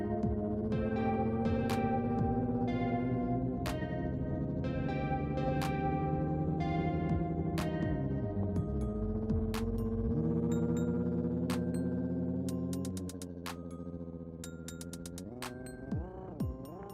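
A self-composed music track from the PS4 game Dreams plays steadily, with sustained tones and plucked or chiming notes, softening in the last few seconds.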